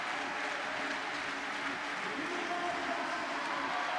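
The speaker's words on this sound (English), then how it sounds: "Crowd are clapping behind it to the beat" A crowd at a women's bouldering and lead climbing final in Bern keeps up a dense, steady wash of clapping and noise, with a voice talking over it.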